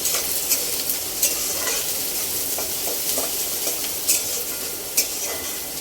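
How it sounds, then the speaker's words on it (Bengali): Finely chopped onions fry in hot oil with cumin, a dense close sizzle broken by repeated sharp scrapes and clinks of a spoon stirring against the pan, with no voices. "দুটো মাঝারি সাইজের পেঁয়াজটা কুচিয়ে রেখেছিলাম ছোট ছোট করে, ওটাও দিয়ে দিচ্ছি। দিয়ে অল্প একটু ভেজে নেব।"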